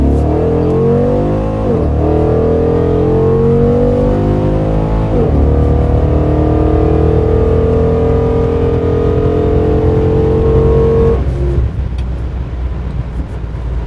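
A 2010 Dodge Charger R/T with a rebuilt 5.7 Hemi V8 drives and revs with a loud, steady engine drone. Its pitch climbs smoothly through the gears with short dips at each shift. The engine is heard close up and continuously, with no talking.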